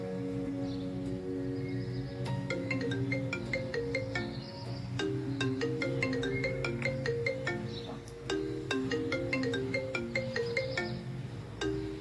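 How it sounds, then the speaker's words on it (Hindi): A mobile phone ringtone plays a repeating melodic tune for about twelve seconds, clear and moderately loud and with no talking over it, in a Hindi family drama. "ऋषभ का फोन है ना, उठा लो।"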